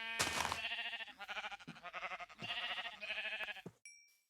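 Sheep in the Minecraft video game bleat in a run of several wavering cries, one after another and close, ending with a short chime-like tone; no one speaks.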